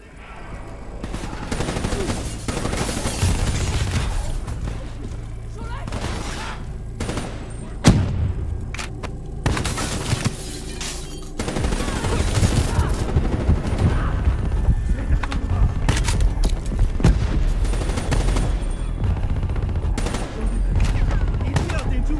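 Sustained gunfire in Call of Duty Black Ops III, dense bursts of automatic rifle and machine-gun fire with heavy booms, loud and near, rolling almost continuously with brief lulls and occasional voices underneath.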